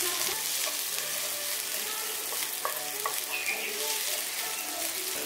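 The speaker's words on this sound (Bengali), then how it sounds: "এখানে পেঁয়াজ, টমেটো আর আদা রসুন বাটাটা দিয়ে হালকা একটু ভাজা ভাজা করে নিচ্ছি।" Onion, tomato and ginger-garlic paste fry in a pan for green peas pulao, giving a steady close sizzle with stirring scrapes throughout and no talking.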